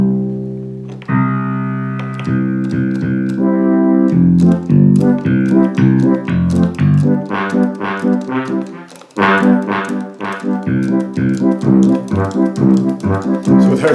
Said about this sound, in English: there's the Oompa band